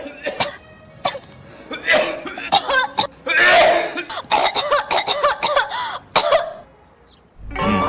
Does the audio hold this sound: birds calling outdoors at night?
no